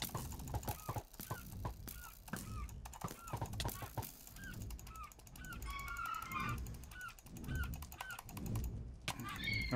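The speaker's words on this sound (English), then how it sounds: "Oh my god, fucking birds." Birds in a video game honk and squawk in repeated goose-like calls, loud and close, layered over busy game noise with scattered sharp hits.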